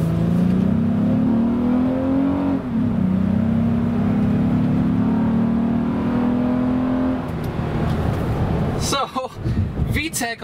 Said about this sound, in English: there is something pretty awesome that I did not expect with this SUV, and that is the induction noise